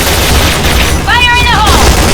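Heavy sustained gunfire and explosions roar continuously in the Point Blank shooter game, loud and dense, with a shouted voice cutting in briefly midway.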